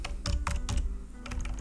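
Typing on a computer keyboard sitting under the microphone, a close series of quick clacking keystrokes in short uneven bursts, alone without talk.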